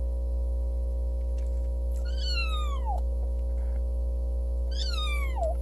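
A cat gives two drawn-out, falling meows a few seconds apart over a constant low electrical hum.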